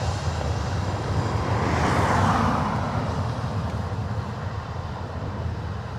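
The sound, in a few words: aircraft on short final at Dublin Airport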